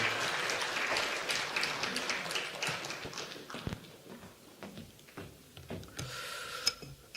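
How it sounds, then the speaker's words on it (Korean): Church congregation clapping in applause, dense and sustained for the first few seconds and then thinning into scattered claps that fade out. "자, 우리 한번 이분들께 뜨거운 격려 박수 좀 할까요?"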